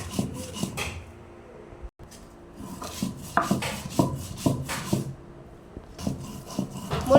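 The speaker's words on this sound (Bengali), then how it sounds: "প্রথমে মরিচগুলো বেটে নিচ্ছি লবণ দিয়ে।" Green chillies ground with salt into a paste: repeated close rubbing and scraping strokes in an uneven rhythm, with no one talking.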